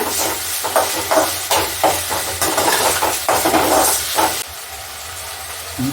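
Ingredients for a toor dal sambar are sautéed in a hot pan, giving a steady, fairly loud hiss and sizzle with scraping stir strokes, which drops to a softer sizzle near the end.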